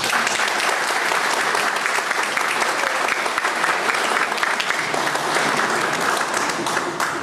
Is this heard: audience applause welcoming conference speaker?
yes